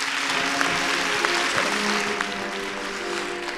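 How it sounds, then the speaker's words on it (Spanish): A crowd at a children's carnival queen coronation in Isla Cristina applauds for the mayor and officials, a steady, full round of clapping heard over a faint sustained musical tone in the hall. "Fuerte el aplauso al alcalde, reina saliente y concejala de festejos."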